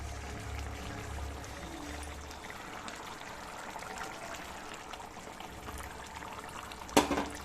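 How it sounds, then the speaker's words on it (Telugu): Water is poured into simmering tomato pulp in a home curry pan, a steady low pouring wash running through most of the stretch before a sharp clatter near the end; no talking. "కొంచెం వాటర్ కూడా ఉంది, వాటర్ వేస్తున్నాం."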